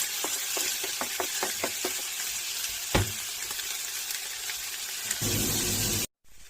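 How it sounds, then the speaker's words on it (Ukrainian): Onions sizzle steadily in a hot pan, with a series of clicks and taps from stirring, then a brief louder hiss before it cuts off. "І смажуємо цибулю."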